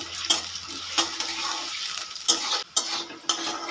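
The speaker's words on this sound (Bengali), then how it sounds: "তেলটা একটু গরম হয়ে এলের মধ্যে দিয়ে দেবো টুকরো করে রাখা আলুগুলো" Potato pieces fry in hot mustard oil in a wok, a soft continuous sizzle broken by several sharp scraping clinks of a utensil stirring against the metal, fairly quiet and close with no talking.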